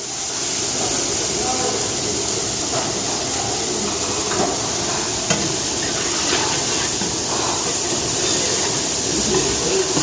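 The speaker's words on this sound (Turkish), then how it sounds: "Şimdi soğanımızı atıyorum." Onions hitting hot butter and olive oil over high heat in a large restaurant batch, a steady loud sizzle and hiss throughout with occasional stirring clatter.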